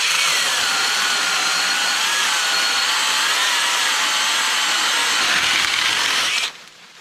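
Dnipro-M CS-12 cordless mini chainsaw with a narrow-toothed chain cutting through wood, a loud, steady high-pitched whine that holds for about six seconds before cutting off abruptly, with no talk.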